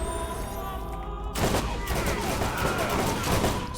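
Sustained gunfire in Borderlands, rapid repeated shots cracking over a constant game background, loud and close, starting abruptly and continuing steadily.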